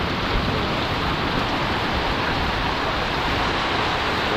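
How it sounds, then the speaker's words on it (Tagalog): Heavy rain pours down outdoors, caught while out on the road. It makes a steady, loud, unbroken hiss that fills the whole stretch, with no voices. "Lakas ng ulan."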